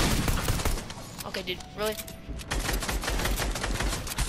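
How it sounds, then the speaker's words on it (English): Gunfire in Fortnite aimed at the player rattles as dense rapid bursts throughout, loud and close, while a player talks over it. "a random person just shooting at me"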